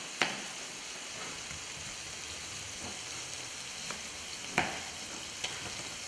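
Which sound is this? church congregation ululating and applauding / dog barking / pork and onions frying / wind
pork and onions frying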